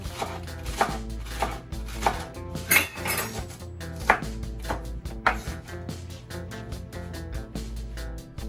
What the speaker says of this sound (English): let's start off by chopping our lettuce